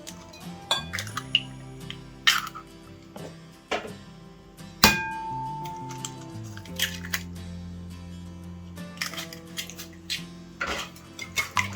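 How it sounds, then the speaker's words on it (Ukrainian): Kefir, eggs, salt and sugar whisked together in a bowl, giving irregular light clinks and taps of the whisk against the sides, with steady background music underneath. "Все змішую"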